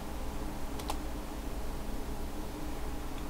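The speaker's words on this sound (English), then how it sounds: "Once you get to your choice, you press enter on the keyboard." A couple of quick computer keyboard key presses click close by during a Puppy Linux install, faint against a steady hiss, with the rest quiet and no talking.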